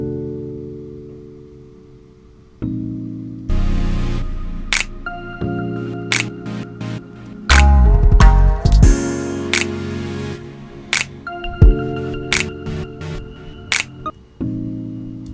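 A mallet-style electric piano synth plays sustained chords and struck notes along with drum hits and a deep bass thump, a clean, layered beat heard up close with no talking.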